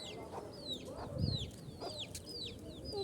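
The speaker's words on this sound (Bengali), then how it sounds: "যে এটা হলো একটা মুরগি।" A chicken clucks and chirps nearby in repeated short, rising calls over a low farmyard murmur, with no talk.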